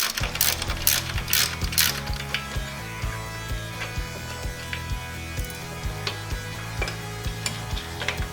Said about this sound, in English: We're going to disconnect the 3 bolts holding the power steering pump here onto this bracket.